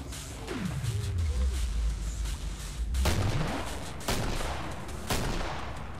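Guns firing in the co-op shooter Killing Floor, a rapid, dense burst of shots with booming low swoops from slow-motion effects, loud and close, and no voices.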